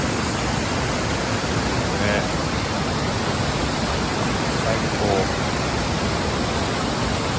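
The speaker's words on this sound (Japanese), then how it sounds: "滝です" The Ryujin waterfall (Dragon God Falls) in Nakatsugawa, Gifu pours with a loud, steady, unbroken roar close by, while a faint voice speaks briefly under the rushing water.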